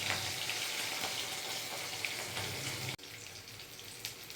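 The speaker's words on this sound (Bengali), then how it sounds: "মাছটা ভাজা হয়ে গেলে তারপরে হয়ে যাবে রান্না।" Fish frying in a pan gives a steady, close sizzle with a broad hiss throughout, briefly cut off near the three-second mark and then resuming slightly quieter. No one speaks.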